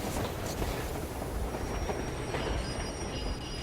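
A train from the video game Metro Exodus rushes past close by, a loud dense roar of rolling wheels and metallic rattling with faint squeals, continuous and unbroken, with no voices.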